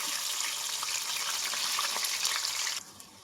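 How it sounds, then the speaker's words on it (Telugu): Onions frying in hot oil for a fish curry, a steady close hiss of dense sizzling that cuts off near the end, with no voices. "అదే లో ఉల్లిపాయలు ఉల్లిపాయలు కూడా వేసుకుంటున్నాం ఫ్రెండ్స్"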